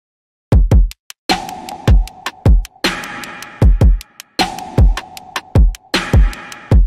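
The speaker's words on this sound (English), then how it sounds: "So this is actually a fan button clicking on and off" A fan's push button clicked on and off, arranged in tempo like a hi-hat: sharp dry clicks in a steady repeating pattern, one accent on the beat and lighter off-hits, close and alone, panned for width.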